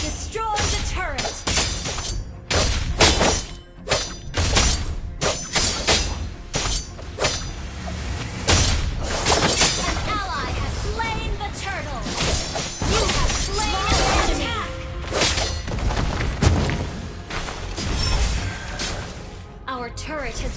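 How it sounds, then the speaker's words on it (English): A turret is destroyed in a MOBA video game amid a busy stream of shattering crashes, bangs and ability effects. A game voice speaks over the dense, loud battle noise. "Your team destroyed the turret."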